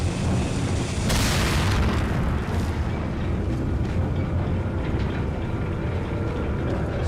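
Enemies' dynamite blows up in Resident Evil 4 HD, a loud explosion bursting in about a second into a sustained, roaring low rumble that carries on without letup for several seconds, with no voices.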